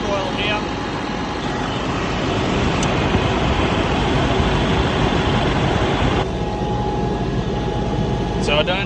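The air conditioning system on a CAT Challenger tractor running with the engine on, giving a steady mechanical hum and drone with a faint shift partway through as the AC clutch cycles.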